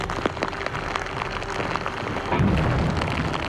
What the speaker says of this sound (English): This is not the first time I've been caught in a storm, but I gotta admit that this one is pretty violent.